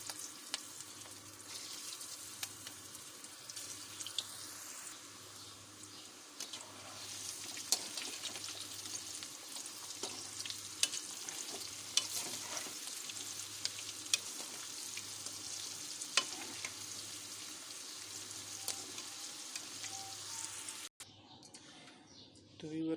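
Chana dal kofta frying in hot oil: a continuous close crackling sizzle with a faint steady hum beneath, running unbroken and cutting off abruptly near the end.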